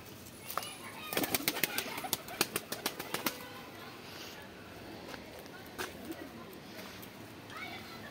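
Tumbler pigeons flapping their wings in a loft, a burst of sharp wing claps in quick succession near the start, then scattered quieter flaps and bird movement, fairly faint overall with some nearby human voices.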